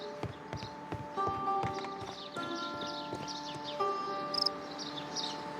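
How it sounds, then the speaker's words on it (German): A temple bell struck in the Sherlock Holmes: Crimes & Punishments game, with repeated ringing strikes and sustained tonal decay layered over ambient background, several hits spaced across the clip. "können wir auch die Glocke läuten"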